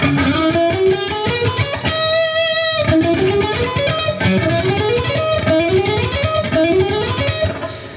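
Fast, even electric guitar economy picking runs through repeating ascending three-notes-per-string patterns across three strings, played continuously and loud with a slightly distorted tone.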